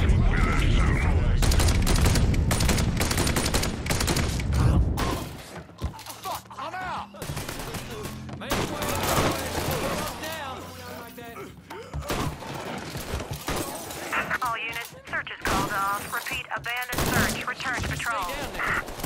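Gunfire in the Mafia 3 video game sounds as heavy, dense bursts and rapid volleys at first, then thins into scattered shots and thuds under game voices and music.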